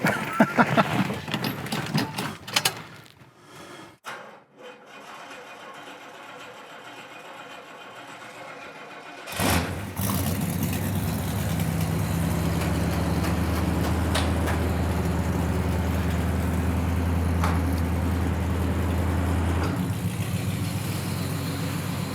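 A 1969 Pontiac GTO V8 cranks briefly, falls quiet, then fires at about nine seconds with a loud burst and settles into a steady, rumbling idle that continues to the end.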